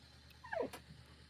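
A dog gives a single short, rising whimpering yip up close, a brief high cry over quiet background.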